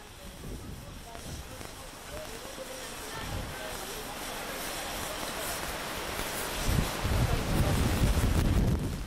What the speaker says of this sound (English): you can hear the wind blowing there.